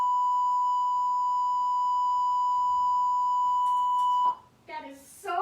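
A loud, steady single-pitched emergency broadcast alert tone sounds continuously for about four seconds, then cuts off abruptly as voices start speaking.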